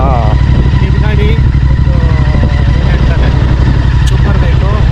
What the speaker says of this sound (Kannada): Super bike.